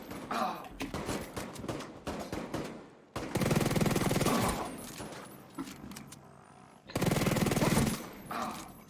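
Vector submachine gun in The Division 2 fires short and longer rapid automatic bursts, loud and close, broken by brief gaps, amid game ambience and occasional voice.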